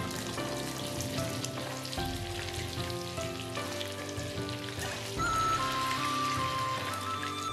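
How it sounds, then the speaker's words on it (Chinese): Minced garlic and small red chilies fry in a little oil left in a wok, a soft continuous sizzle heard close up, with a clear tonal music bed playing over it and no speech. "锅中留底油，倒入蒜末、小米辣炒香"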